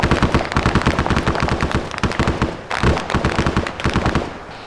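Loud, rapid bursts of close automatic gunfire rattle in quick repeated rounds with brief pauses between volleys, dense and sharp throughout, with no talking over it.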